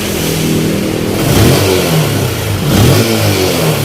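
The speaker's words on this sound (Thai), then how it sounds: "ครับเครื่องยนต์ติดแล้วครับ" A Honda Spark 135 motorcycle engine with an opened-up R15 exhaust running loudly up close, revving up twice with rising and falling pitch over a rough, steady idle.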